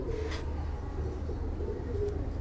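Pigeons coo softly on a rooftop, with a couple of faint calls over a steady low hum of background noise.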